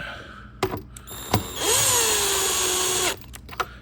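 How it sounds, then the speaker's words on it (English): A cordless drill whirs with a rising and falling pitch for about a second and a half, then cuts out as its clutch slips, with a few sharp clicks and taps before and after. "Kind of hear the drill stop out with that clutch setting engaged."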